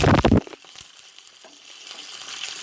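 Mustard seeds hit hot oil for a sambar tempering and crackle loudly for a moment, then settle into a steady soft sizzle and fry close by.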